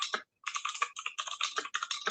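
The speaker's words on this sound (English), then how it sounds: "Boy, that's a loud keyboard." A loud, solid computer keyboard being typed on up close, with rapid clattering keystrokes in steady bursts and a brief pause near the start.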